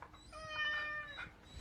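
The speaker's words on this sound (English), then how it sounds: "Maxie, meow." A house cat meows, a short drawn-out cry with rising and falling harmonics, close and fairly quiet, with no talking over it.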